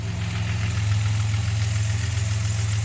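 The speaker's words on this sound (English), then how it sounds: "Valves are a little ticky because they're a little cold." Slant six engine idling cold with slightly ticky valves, a close steady low rumble with a fast even pulsing throb, no talking.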